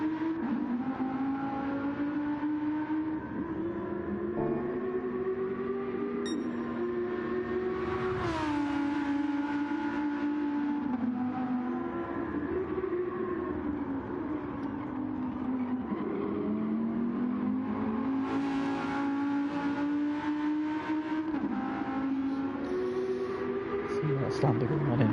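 GT2 race cars lap Daytona under floodlights in a sim racing game, engines droning steadily with rising and falling pitch as they shift gears, a continuous near-constant whine under a commentator's talk.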